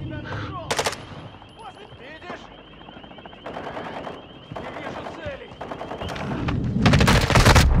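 Gunfire in the video game Call of Duty: Modern Warfare II during the Shadow Siege event, with bursts of automatic fire and scattered shots among game sounds and a steady tone, growing heavier toward the end as voices talk underneath.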